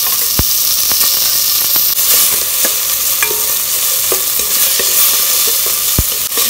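Tomato fries with onion in a pan under a loud, close, continuous sizzle, with occasional scrapes and taps of stirring.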